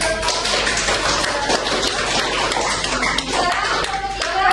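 A classroom group claps hands during a microteaching lesson on inflation and the economy, a dense, steady patter of many hands filling the room, with some voices mixed in.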